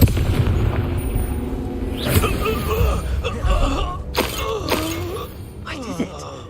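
In a Harry Potter video game, the Confringo spell fires with a heavy booming blast, followed by creaking, rumbling effects and grunting creature or character voices, fairly loud and close.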